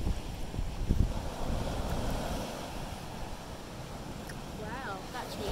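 Surf rolling onto a small deep-water beach at Mussel Bay in south-east Tasmania, a steady wash of waves mixed with wind buffeting the microphone, and people talking over it nearby.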